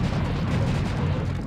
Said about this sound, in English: I'm getting used to that fucking sound of the bones dropping from the explosion.